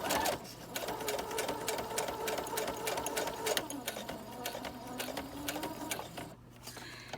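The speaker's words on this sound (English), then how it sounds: "I'm deliberately sewing all over this because I can't sew a straight line for love or money" A sewing machine stitches fabric in a steady, continuous whir of rapid needle strokes, sewing freely over the cloth to add texture, with a brief pause near the end before the motor resumes.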